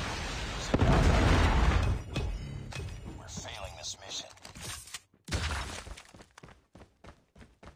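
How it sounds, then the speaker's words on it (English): Predator missile strike detonating in Call of Duty Mobile gameplay, a loud heavy blast with shattering debris at the start, then scattered pops and thuds of gunfire and smaller impacts fading under in-game voice announcements. "Predator missile inbound."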